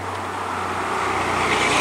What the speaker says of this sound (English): See, the cars are pretty active.